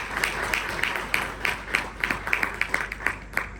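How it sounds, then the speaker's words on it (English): A small audience clapping in steady, fairly sparse rhythm at a commemoration of Mahad Satyagraha Din, individual claps distinct and moderately loud over a roomy background. "So let us clap for that event"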